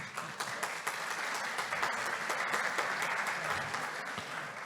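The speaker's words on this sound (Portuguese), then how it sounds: "Pode aplaudir" Audience applause at an energy efficiency conference panel, dense steady clapping from a seated crowd throughout, moderately loud, with no voices over it.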